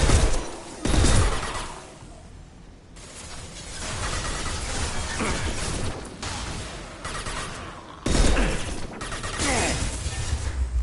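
Gunfire rattles in Mass Effect 2 as loud bursts of shots and mechanical clatter, with sharp attacks that come and go and a sustained din of combat between them.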